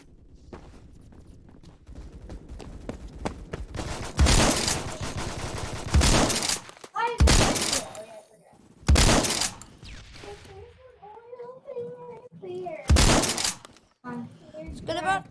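Shotgun fire in the Roblox video game: several loud, broad blasts arrive in separate bursts, some sustained and crackling, between quieter stretches where people talk over game sounds.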